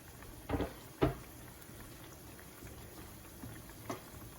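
Empanadas fry in hot oil, a faint steady bubbling hiss with two louder knocks near the start and a softer one later, quiet and without speech.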